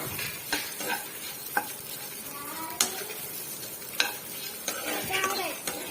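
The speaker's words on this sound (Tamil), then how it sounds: "இப்போ இந்த தேங்காய் சேர்த்துட்டு கொஞ்சம் அப்படியே வறுக்குங்க" Spices and coconut sizzle and fry in a pan while a spoon stirs, with sharp scraping clicks against the pan at irregular intervals over a steady sizzle.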